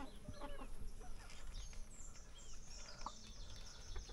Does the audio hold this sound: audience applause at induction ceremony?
no